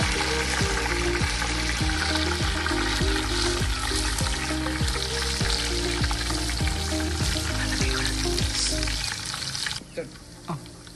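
Garlic fries in hot oil for a tilapia dish, giving a loud, steady crackling sizzle up close with faint tonal sounds beneath, thinning out near the end.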